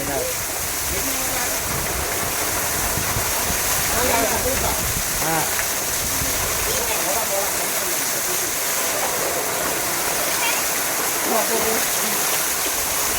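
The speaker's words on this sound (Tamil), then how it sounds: "ரெண்டு கிளையில தண்ணி விழுகுது, ஒன்றில் விழுகலை" A loud, constant roar of the Courtallam waterfall cascading nearby, with people talking over the rushing water.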